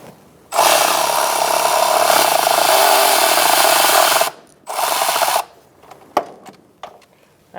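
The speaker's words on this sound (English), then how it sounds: "I'm going to use an 8mm socket and an extension to loosen up the clamp in the" A ratchet with an 8mm socket and extension loosens a clamp on an inner tie rod of a 2002-2006 Toyota Camry. It gives a loud, close, rapid clicking run of about four seconds, then a shorter burst and a few scattered clicks.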